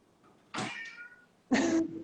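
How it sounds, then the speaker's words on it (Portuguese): A pet cat meows twice indoors, a short mew followed a second later by a longer, louder meow, close by and clear against a quiet room. "tem um gatinho. É o meu gatinho."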